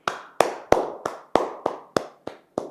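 Audience clapping together in response to a call from a Telugu TV host, about nine sharp, evenly spaced claps in a slow unison rhythm, each with a brief ringing decay and nothing else heard.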